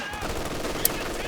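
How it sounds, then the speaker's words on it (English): An MG42 machine gun in the Company of Heroes 2 strategy game rattles in a continuous dense burst amid battlefield din, with one sharper crack standing out partway through. "This MG42 is doing work"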